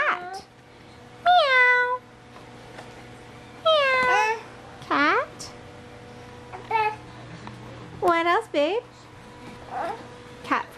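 A cat meows repeatedly in a home setting, several clear rising and falling calls spaced across the stretch, close and fairly loud, with a quiet indoor hum beneath.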